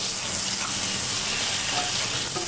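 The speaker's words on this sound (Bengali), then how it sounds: "এবার এটাকে ভালো করে কষিয়ে নিচ্ছি।" Spice gravy for a jackfruit and shrimp curry sautés in oil in a pan, a soft continuous sizzle with faint stirring, no voices.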